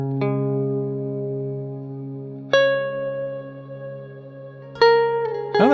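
Mini guitar played through a Chase Bliss Mood MKII reverb pedal: three strummed chords, each ringing out and sustaining with a long, lush reverb tail, no talking.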